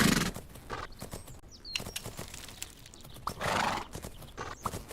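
A horse canters in the video game Fernhoof Grove, its hooves drumming in uneven clusters, with loud whinnies and snorts breaking through and occasional bright chirps in the background.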